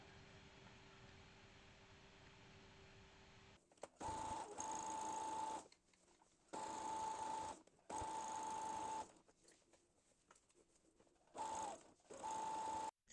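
A sewing machine stitches a hem on a cotton pant in several short bursts, each a few seconds long, separated by pauses and preceded by a low hum, close and clear with no talking.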